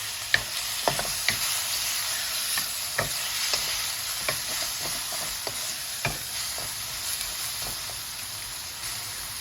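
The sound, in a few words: beef tripe frying on high heat while stirred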